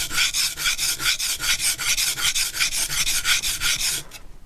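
A blade is sharpened on an oiled stone with a convex bevel, about twenty quick rhythmic rasping strokes in steady back-and-forth succession, close and clear, ending abruptly, no talking.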